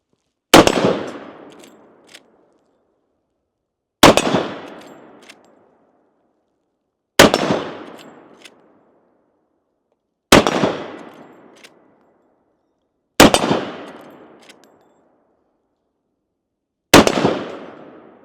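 Six loud, sharp gunshots from a Henry All Weather 45-70 lever-action rifle fired outdoors, spaced about three seconds apart, each a close crack followed by a long fading echo.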